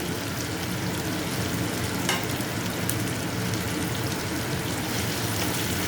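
Chopped tomato frying in a pan, a steady loud sizzle with crackling spatter running throughout, no voices heard.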